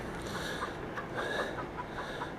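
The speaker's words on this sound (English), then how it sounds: "My chickens are friggin' out." Chickens clucking steadily nearby, with repeated short calls over a continuous backyard flock murmur, loud and alone without talk.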